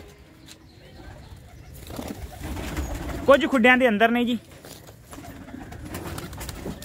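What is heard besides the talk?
desi pigeons cooing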